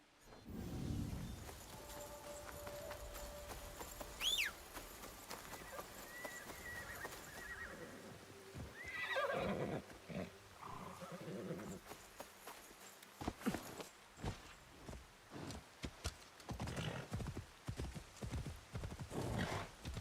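A horse in an Assassin's Creed Shadows game scene whinnies loudly, then its hooves clip-clop steadily on the ground, the steps growing busier and more irregular toward the end.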